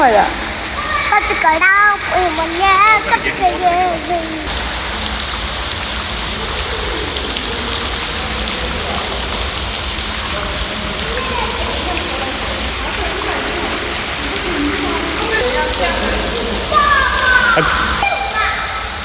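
Artificial rain pours steadily in an indoor rain room in Sharjah, a constant dense hiss of falling water that runs the whole time, with children chattering and calling out over it.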